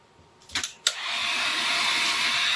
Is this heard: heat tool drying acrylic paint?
yes